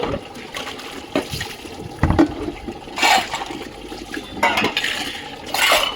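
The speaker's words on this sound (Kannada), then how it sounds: "ಪಾತ್ರೆ ತೊಳ್ಕೊಂಬಿಡೋಣ." Dishes washed by hand with running water, water splashing and trickling in uneven bursts with faint clinks of utensils, close by and without voices.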